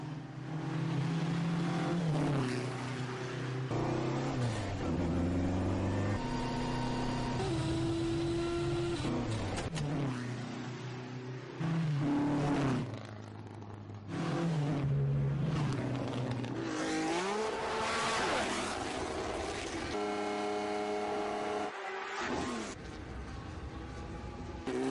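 A car drives and accelerates steadily, the engine droning loudly with rising and falling revs and a few brief shifts, running continuously with no talk.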